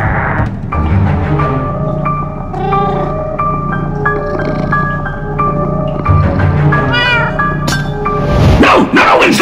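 A cat in the Minecraft: Story Mode video game meows and caterwauls in long, wavering, drawn-out cries, loud and near, over a steady musical bed for roughly nine seconds.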